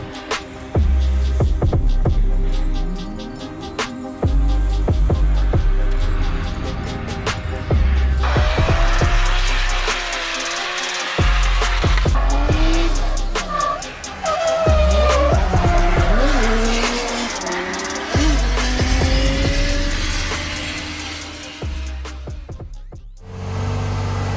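Nissan S13 drift car at a drift event, loud engine revs climbing and dropping in repeated bursts, with long tire squeals sweeping over the roar and a brief near-silent break partway through.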